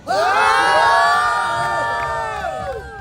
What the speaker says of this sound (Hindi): थैंक यू गाइस चिल्लाने के लिए मेरे लिए